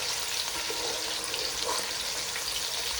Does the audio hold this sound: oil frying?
yes